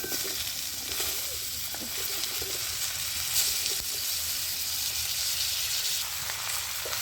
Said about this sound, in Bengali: আমি এবারে কেটে রাখা সব সবজিগুলো দিয়ে দিচ্ছি একে একে।